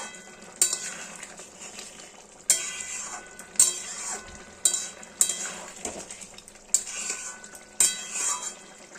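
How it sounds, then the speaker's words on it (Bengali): Jhinge alu posto, ridge gourd and potato in poppy seed paste, being stirred in a pan with a utensil, giving a series of sharp scraping clinks at irregular intervals over a soft background hiss. "এইবার ওটাকে নাড়িয়ে দেবো"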